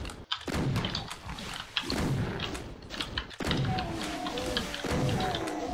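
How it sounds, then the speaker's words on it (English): In the Doom map The Pit, a super shotgun fires again and again. The blasts are sharp and booming, with gaps between them, over a layered game soundscape of thuds and enemy noises. "Okay, we're back to super shotgun spam."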